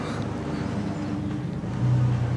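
A 1991 GMC Jimmy with a 4.3 V6 and a blown muffler rumbles nearby in a steady, low, rough drone that swells slightly louder toward the end.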